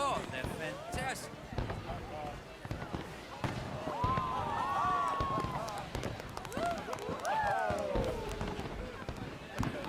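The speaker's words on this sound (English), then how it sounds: "Fireworks. My lord, they're fantastic." Fireworks in Red Dead Redemption 2, a string of crackling pops and booming bursts with whistling rising tones, scattered and irregular at moderate distance, mixed with game ambience and intermittent talk.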